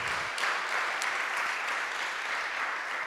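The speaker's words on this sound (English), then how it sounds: "Please give a round of applause for this prize." Applause from an audience at a startup pitch competition prize announcement, steady dense clapping throughout, loud and continuous with no voices.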